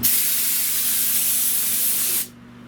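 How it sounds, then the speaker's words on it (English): Spray adhesive from a can hisses steadily onto a car hood panel of a Buick Riviera. It is one loud, close, continuous burst lasting about two seconds before cutting off. "I sprayed both sides of this down"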